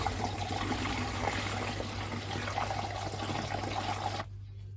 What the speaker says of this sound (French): Notre sucre de Baël, il est maintenant à température ambiante. On peut le verser dans la cuve de fermentation.